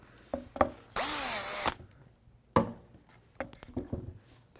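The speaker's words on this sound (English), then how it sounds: "I'm going to go and drill these out." A power drill whines in one short, loud burst, surrounded by scattered knocks and clunks from handling parts nearby.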